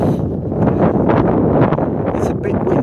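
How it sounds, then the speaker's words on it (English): Gusty wind buffets the microphone beside Regents Canal at night in London, a loud continuous rumbling roar with rustling swells and no clear speech. "It's a bit windy tonight,"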